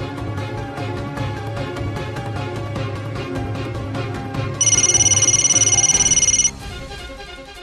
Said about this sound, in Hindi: आदि शायद उसी का फोन है।